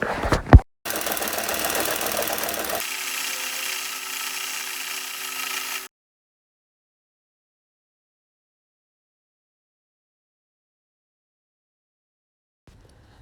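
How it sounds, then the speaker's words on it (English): A home sewing machine runs a simple straight stitch along the bent edge of dress fabric, buzzing in a close mechanical whir for about five seconds that shifts in tone midway, then stops into silence. "take it to my sewing machine and sew on the side that is bent so I can gather it"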